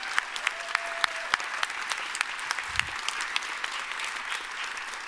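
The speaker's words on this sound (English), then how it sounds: "Can we just give this group another round of applause?" Audience applause at a Snow College nursing pinning ceremony for the graduating group, steady dense clapping filling the hall with sharper individual claps standing out throughout.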